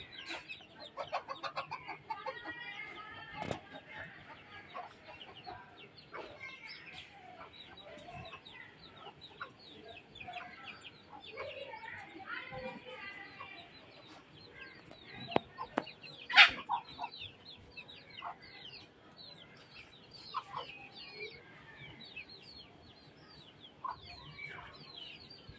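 Domestic country chickens in a garden setting cluck intermittently through a steady outdoor background, with scattered bird calls and a few sharper bursts, fairly near but moderate in level.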